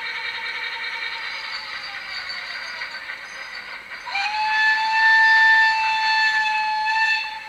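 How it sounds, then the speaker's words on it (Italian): A model locomotive's sound decoder powers up its engine sound: a steady electric hum with high tonal whine, then a sudden louder layer of rising whines cuts in partway through and holds, fairly close and with no talking. "ossia si accende il motore"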